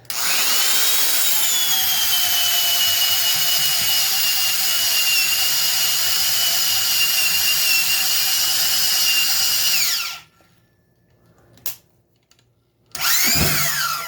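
A Milwaukee half-inch high-torque D-handle power drill runs steadily at high speed for about ten seconds, loud and whining, then winds down, followed by a brief rattle and a restart.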